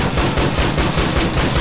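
A shotgun fires in GTA The Lost and Damned: loud, close blasts repeat in a fast, steady rhythm over dense game noise, with no talking.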